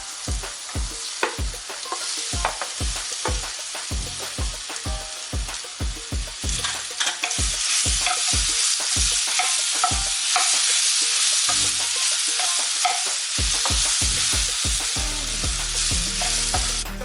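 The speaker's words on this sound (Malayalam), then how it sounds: "എന്നിട്ട് നമ്മൾ ഈ അരിഞ്ഞു വെച്ച പഴം ഇട്ട് കൊടുക്കാം." Chopped banana frying in ghee in a pan for a wheat-flour banana snack, with steady sizzling broken by repeated sharp scrapes and taps of a stirring spoon against the pan, close and fairly loud, no talking.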